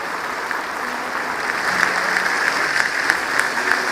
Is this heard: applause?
yes